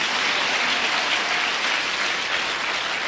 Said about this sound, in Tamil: கைத்தட்டுங்க, நல்லா கைத்தட்டுங்க